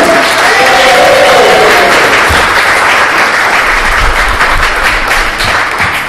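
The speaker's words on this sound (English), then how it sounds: "So we get that nice gentle ripple of applause at the front." Comedy night audience applauding loudly as a comedian walks onto the stage, a dense sustained wash of clapping and crowd noise with a faint voice in the background.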